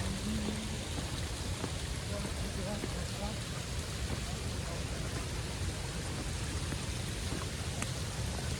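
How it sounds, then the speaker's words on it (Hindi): Steady rain pours down on the way to Krangsuri Waterfall in a dense, even hiss with scattered drips, continuing without a break. "तो यार फिर से बारिश दे रहे हैं।"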